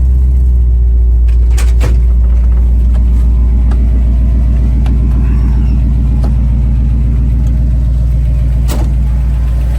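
A 1985 Ford Bronco with headers and MSD ignition idles steadily up close, its loud, even engine rumble running throughout with a few faint clicks and knocks over it.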